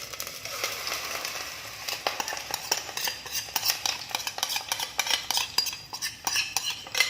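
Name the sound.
spicy chicken mixture added and spread in hot pan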